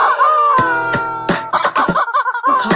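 A rooster sound effect crows loudly and close, with a long drawn-out cock-a-doodle-doo followed by a quick run of clucking calls, heard alone without talk.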